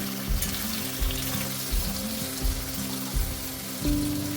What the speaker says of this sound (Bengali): পেঁয়াজ ক্যাপসিকামগুলো একটু ভাজা ভাজা হবে।